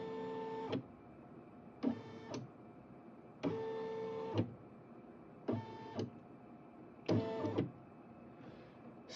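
Brother SE1900 embroidery machine moving its needle to the corners of a design, five short motorized whirring bursts separated by quiet pauses, close and fairly soft.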